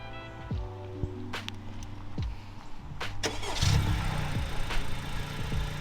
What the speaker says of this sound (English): what if you remote start your car with this remote?